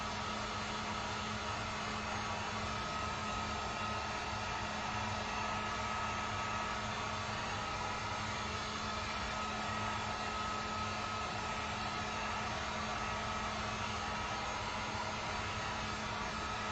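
A heat tool blows a steady, loud, unbroken whirring roar close by as it dries acrylic paint. The sound holds at the same level the whole time, with no talk.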